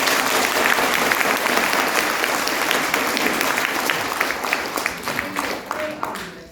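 Enthusiastic audience applause at a public forum, loud, dense clapping that stays strong, then breaks into more distinct individual claps as it dies down, with some voices mixed in underneath.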